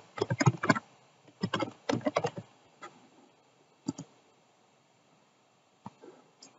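Sharp mouse clicks at a computer while roles are assigned to a site in a web admin tool. They come in quick bursts of two and three, then sparse single clicks trail off, close and fairly quiet with no talking.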